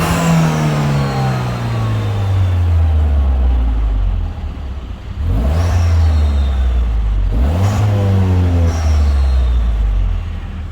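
A Citroën DS3 fitted with a performance induction kit revs hard several times, each burst climbing then falling away, loud and close with brief pauses between pulls.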